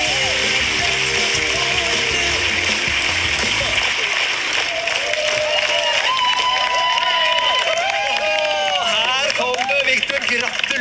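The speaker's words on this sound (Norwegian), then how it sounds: "Du gir en stor applaus." A large audience applauds and cheers in a dense, continuous roar, with a voice speaking over it.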